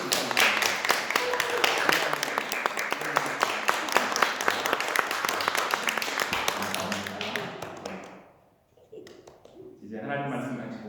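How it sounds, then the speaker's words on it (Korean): A Korean church congregation applauds during a Sunday worship service, a dense run of close handclaps lasting about eight seconds before fading out, then speech resumes. "여러분들 박수로"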